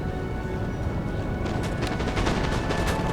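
Musket volley fire in Napoleon Total War: a steady crackle of massed shots rolls out in dense bursts over a constant battlefield rumble, growing thicker and louder partway through.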